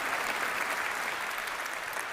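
A live crowd claps and cheers in a dense, continuous roar of applause from a large audience, loud and sustained for the whole moment.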